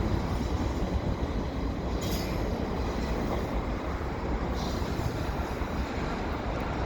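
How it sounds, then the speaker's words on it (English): A Canadian Pacific westbound mixed freight stack train passes at Dorval in winter, a loud, continuous roar of rolling wheels and rattling cars with faint squeals, close by and steady throughout. "Very colorful stack train."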